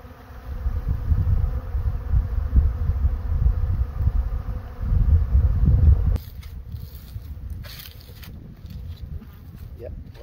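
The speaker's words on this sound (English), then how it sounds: "Lots of bees doing well." Dense buzzing of many honeybees swarming close by around their hive, loud for several seconds before dropping to a softer hum with faint rustling.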